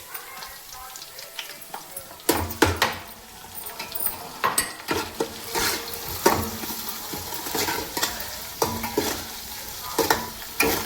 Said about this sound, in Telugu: పచ్చిమిరకాయలు ఎండుమిరకాయలు కొంచెం వేపుకుంటే కొంచెం కారం అనేది ఆ నూనెలో దిగుతుందండి